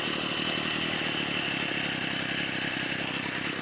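A petrol strimmer (line trimmer) engine, head not spinning, runs steadily at a rough, buzzing idle, close and continuous with no voices.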